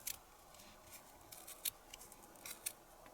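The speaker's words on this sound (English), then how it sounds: "I'm going to cut with my scissors." Quiet, crisp snips of scissors cutting yarn come in short irregular bursts, close by and faint, with no talking.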